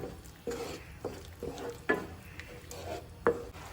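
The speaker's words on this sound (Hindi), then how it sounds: "और इसे एक बार अच्छे से मिक्स करेंगे।" Soft, repeated scraping of a spoon stirring food in a pan, about six strokes in an even rhythm, with a light sizzle underneath.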